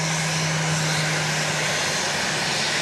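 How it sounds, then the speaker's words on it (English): Airliner at Dallas Love Field, a flight bound for Austin, Texas, roaring loudly and steadily from the runway with a broad sustained engine rush and a low hum, no voices. "Here comes flight 2191. Destination Austin, Texas."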